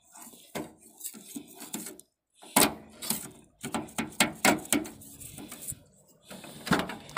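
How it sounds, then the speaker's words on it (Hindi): Bent metal scale hammered into a car door lock gives a series of sharp metallic knocks and clanks in uneven bursts, close and fairly loud, with short pauses between groups of strikes. "इसको इधर से डालना है और इधर लॉक के पास ही ठोकना है"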